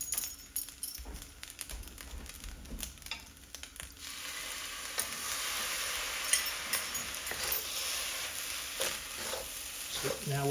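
Shrimp sizzling in a wok after Chinese cooking wine is splashed in, a steady close frying hiss that swells after a few seconds, with scattered utensil clicks and stirring.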